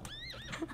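A horse in the video game West of Loathing gives a short whinny, a brief wavering neigh rising and falling within under a second, close and clear.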